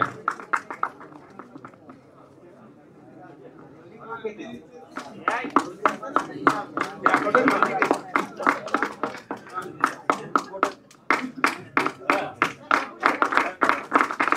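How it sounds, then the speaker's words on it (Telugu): At a film audio launch event, an audience breaks into rhythmic clapping after a quiet spell. The claps build into a dense, loud, fairly even beat while a voice speaks over a PA. "క్లాప్స్"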